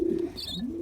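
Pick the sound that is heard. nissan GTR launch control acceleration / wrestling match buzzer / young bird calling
young bird calling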